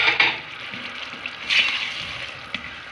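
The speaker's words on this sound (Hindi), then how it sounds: "अब इसमें मैं थोड़ा सा पानी ऐड करती हूँ ताकि जो मसाले हैं वो अच्छी तरह से पक जाएं" Water poured into cooking spinach and turnip masala in a pan, a splashing, hissing pour that swells in two bursts over about three seconds.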